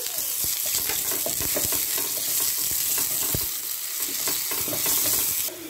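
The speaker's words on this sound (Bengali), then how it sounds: "এবার তেলে দেব পেঁয়াজ, একটা ছোট পেঁয়াজ আমি কুচিয়ে নিয়েছি, দিয়ে দিলাম। একটু পেঁয়াজটা একটু ভেজে নিচ্ছি।" Chopped onion sizzles and crackles in hot oil, with scattered pops and stirring scrapes throughout, close and steady.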